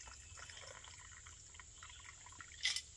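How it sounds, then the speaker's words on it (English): Space Odyssey cocktail poured into a glass, a soft steady liquid trickle running throughout with a brighter splash near the end, quiet and close. "You're pouring that right in there."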